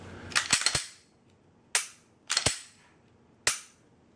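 A newly installed Haley Skimmer trigger is dry-fired, giving sharp, close metallic clicks: a quick cluster of snaps, then a single click, a tight pair, and one last click, with no talking.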